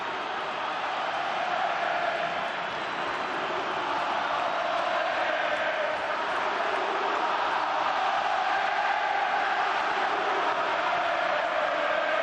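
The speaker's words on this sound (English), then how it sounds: "words of the song the crowd are singing" A football stadium crowd during a 2009 Barcelona vs Espanyol match sings together, a dense, steady roar of many voices filling the whole stretch without breaks.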